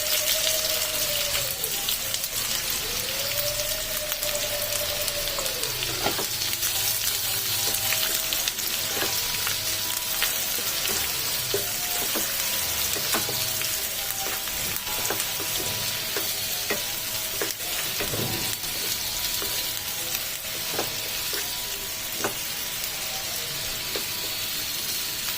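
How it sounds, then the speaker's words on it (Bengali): Two medium chopped onions fry steadily in a pan for restaurant-style paneer butter masala. A continuous close sizzle runs throughout with occasional stirring clicks, and a faint repeating tonal sound sits in the background. "এরপর পনির বাটার মশলার জন্য আমি যে পেঁয়াজটি কুচিয়ে রেখেছিলাম, 2টো মিডিয়াম সাইজের পেঁয়াজ, সেটিকে আমি ভালো করে ভেজে নেব।"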